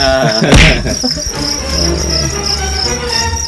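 Black crickets on a cricket farm chirp in a dense, steady, shrill chorus close by, with a brief rustling thump early on.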